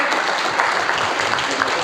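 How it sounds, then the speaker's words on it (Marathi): A crowd claps at a political party induction ceremony, dense steady applause at moderate volume from start to finish, with a faint voice underneath. "सर्वांनी जोरदार टाळ्या वाजवायच्या"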